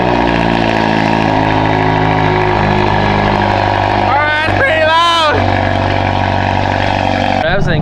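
A cold-started Hyundai Elantra N with a straight-pipe exhaust idles loudly and steadily up close, its low rumble holding throughout with brief revving or whistling near the end, while people talk over it.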